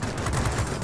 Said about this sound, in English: You've got three 23mm cannons on this plane that do significant damage consistently